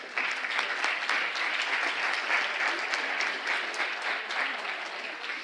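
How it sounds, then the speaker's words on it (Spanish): An audience at a public-sector talent forum applauds panel speakers, dense sustained clapping from a room full of people at steady loudness, easing slightly toward the end. "Un aplauso, por favor, para ellos."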